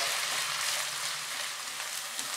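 Onions frying in oil over medium heat, a steady close sizzle with a dense hiss that runs evenly throughout.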